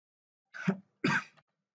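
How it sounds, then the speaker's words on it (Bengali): Two short, close coughs or throat-clearing bursts from someone with a cold, separated by a brief pause in an otherwise quiet room. "আজকে ঠান্ডা খাইছি, ঠান্ডা লাগছে, কাশি আসতেছে একটু পর পর"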